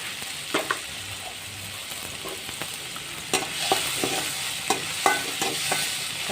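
Tomatoes with salt fry and soften in a pan, a constant close sizzle broken by repeated clicks and scrapes of a spoon stirring the pan.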